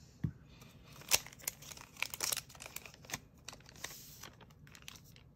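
Close, quiet crinkling and ripping of a Korean Pokémon 151 booster pack's foil wrapper being torn open, a run of sharp crackles and tears with a few tapping clicks.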